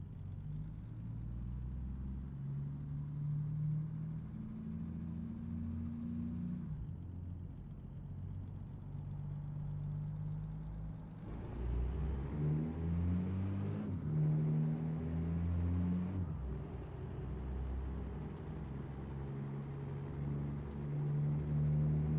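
A heavy truck's engine in a driving video game holds a steady low rumble that shifts pitch with gear changes and a brief air-brake-like hiss, continuous and close with no talking.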